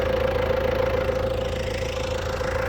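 An MTZ tractor engine runs with a knock, a steady rhythmic mid-pitched drone with a regular pulsing beat, close and fairly loud, with no talking.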